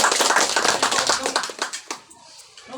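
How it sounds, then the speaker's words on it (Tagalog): An indoor audience at a religious gathering claps together, a dense flurry of hand claps that thins into scattered taps and dies away near the end. "Palakpak ulit."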